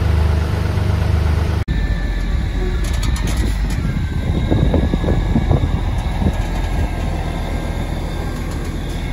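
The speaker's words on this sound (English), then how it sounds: "Now we're ready to pull the pump." An engine-driven water pump by a farm pond starts up with a sharp click, then settles into a steady loud mechanical drone with rattling and knocking, running continuously close by.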